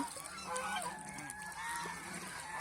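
Geese on a goose farm honk in a busy, overlapping chorus, several birds calling at once at moderate distance with steady farmyard background and no talk.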